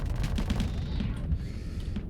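Rapid cannon fire from Vulcan cannons in the space combat game Starsector, a dense, continuous rattle of shots with low booms mixed in, loud and sustained through the whole stretch.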